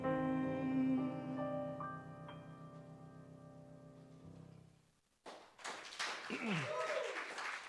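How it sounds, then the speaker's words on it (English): Sustained music fades out at the end of a live show at The Bedford, then a burst of crowd applause and cheering rises, with whoops and a voice over the clapping. "Would you keep that applause going for Rich, our sound engineer"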